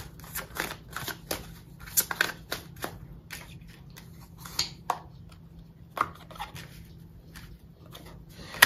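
Tarot cards are shuffled and drawn in soft, close riffles and flicks, faint and irregular with short gaps between them.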